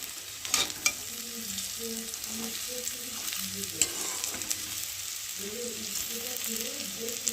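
Chow mein noodles stir-fried lightly with vegetables in a pan, a steady sizzle with scraping stir strokes near the mic, and a low hum running underneath throughout.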